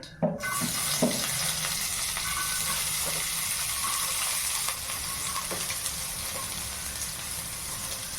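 Onions frying with cumin seeds in a pan give a steady, close sizzle throughout, with a few stirring scrapes and clatters near the start.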